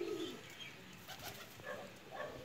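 A Pakistani golden breeder female pigeon coos softly, a low throaty call heard at the start, with faint soft bird sounds over steady background noise.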